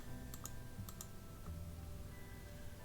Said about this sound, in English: So when I hit the number 1 key on my keyboard,